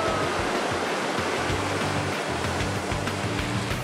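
Sea waves break and wash continuously at a surf spot where children are learning to surf, a loud, steady roar of surf with no voices heard.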